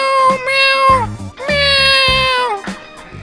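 A child imitates a cat, voicing two long, drawn-out meows close to the microphone, each loud and wavering before trailing off, followed by a brief shorter sound.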